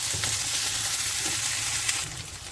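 Small slices of adobo pork frying with garlic and onion in a pan give a dense, close sizzle with a few stirring knocks that eases slightly near the end.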